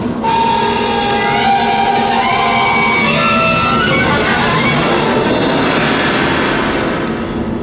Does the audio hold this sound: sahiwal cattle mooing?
no